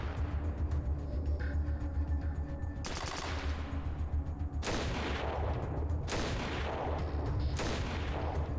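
Gunfire and grenade blasts in Atom RPG combat, fairly quiet bursts and sharp bangs spaced a second or two apart over a steady low background, with no one talking.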